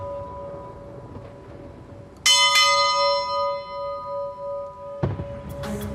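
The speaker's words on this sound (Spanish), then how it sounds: "¿Podríamos tocar esa campana?" Ship's bell struck at a naval memorial commemorating the sinking of the corvette Esmeralda: two loud ringing strikes close together, a long shimmering decay, then a third strike near the end.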